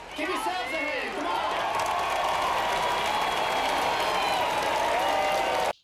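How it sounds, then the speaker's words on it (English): Dense crowd applause with some cheering fills the stretch in a continuous loud roar that holds steady and then cuts off abruptly at the end. "Give yourselves a hand"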